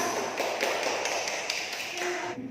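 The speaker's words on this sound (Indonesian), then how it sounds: "Kita beri aplaus." Classroom applause for a student group, a dense patter of many hands clapping at close range that continues steadily before cutting off near the end.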